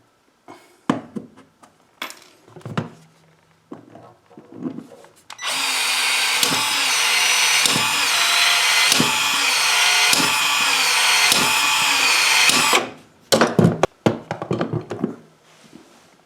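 A power tool cuts a broken plumbing pipe to size, a loud, steady whine lasting about seven seconds in the middle, framed by sharp handling knocks and clatters before and after, with no one speaking.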